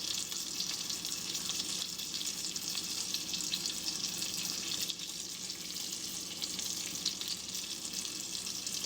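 Bacon-topped parmesan salmon fries in a pan, giving a steady, dense sizzle and crackle that runs unbroken at close range for the whole stretch, with no talking over it.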